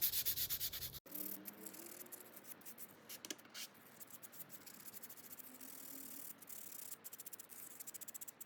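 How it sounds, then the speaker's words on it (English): Wet sanding of paint on yellow foam, a soft, quiet, steady rubbing and scraping close by, broken by occasional light taps and clicks. "I'll keep sanding this."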